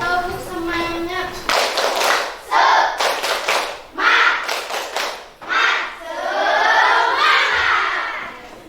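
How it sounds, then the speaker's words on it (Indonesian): Primary schoolchildren in an elementary classroom perform a rhythmic spirit clap cheer, bursts of patterned clapping mixed with loud group chanting and shouting, after a teacher's voice at the start. "tepuk semangat"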